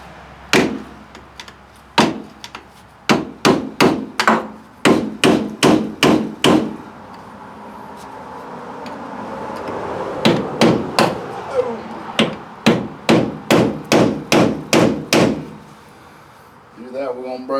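Loud, sharp metal hammer blows striking a Craftsman screwdriver driven behind a stuck part on a 1985 Chevy K10 during restoration, two rapid bursts of about a dozen evenly spaced strikes separated by a pause.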